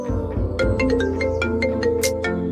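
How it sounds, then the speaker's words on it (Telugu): A phone ringtone for an incoming call plays a bright, repeating electronic melody of short pitched notes, close and clear, sounding alone for a few seconds with no talking. "అసలు రియా ఎందుకు ఫోన్ చేసిందో ఏమో."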